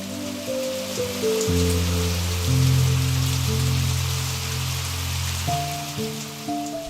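Continuous heavy monsoon rain in rural Bangladesh hisses over soft sustained music tones, steady and unbroken from start to finish.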